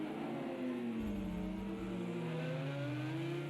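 GT3 race cars in Project CARS 2 at the Hockenheim GP circuit come into a braking zone. The engine tones sweep downward as they slow, steady and moderately loud, with a gliding pitch drop and no talk.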